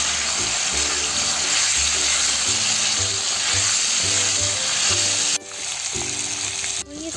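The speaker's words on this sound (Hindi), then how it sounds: "लहसुन अदरक का पेस्ट, नमक, पोर्क डाल दे, ये ऑलरेडी बॉइल्ड है तो पकने में समय नहीं लगेगा।" Boiled pork with garlic-ginger paste and salt frying in a pan: a loud, steady, close sizzle with stirring, briefly dipping twice near the end.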